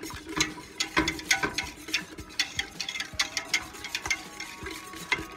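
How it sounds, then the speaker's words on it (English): A wire whisk stirs clam chowder gravy in a pot, giving a quick, irregular clatter and scrape of metal wires against the pot, close and moderately loud with no voices. "If it lumped up, just get your wire whisk out. Break it down."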